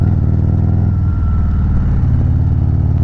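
A Harley-Davidson Road Glide Special with the 131 motor idles and rumbles up close, its deep, loping, uneven V-twin throb loud and steady with no talk over it.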